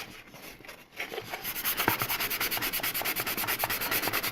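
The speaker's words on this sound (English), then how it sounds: "kind of give it another light sanding." Light hand sanding of primed scale model parts to clear burrs, a close, rhythmic back-and-forth rasp that starts after a moment of quiet and keeps a fast even pace.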